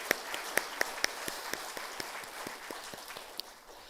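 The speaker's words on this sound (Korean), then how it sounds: "우리 하나님께 감사하는 마음으로 영광의 박수를 한번 올려드리겠습니다" A church congregation claps in steady, fairly quick rhythm during a Sunday service, many hands blending into a dense wash of applause with no voices over it.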